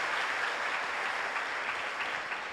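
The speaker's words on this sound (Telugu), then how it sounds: "గట్టిగా చప్పట్లు కొట్టి ప్రభువును స్తుతిద్దాం" A church congregation claps loudly in praise during a live prayer service, a thick, continuous wash of many hands clapping together that holds steady for a couple of seconds.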